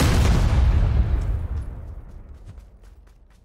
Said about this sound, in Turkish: Molotof bomba 3 tane.